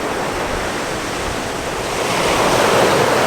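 Ocean waves roll in at the shore in a loud, steady wash of surf that builds slightly toward the end, with wind mixed in and no voices.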